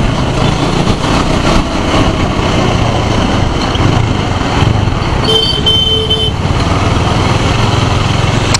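KTM Duke 250 motorcycle at speed, with a loud, steady engine drone mixed with heavy wind rush, a brief high tone near the middle, continuous throughout.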